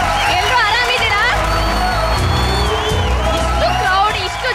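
A large festival crowd in Hubballi cheers and whoops loudly and continuously, with shouts and excited voices layered over a dense roar of the gathering, close and filling the space throughout.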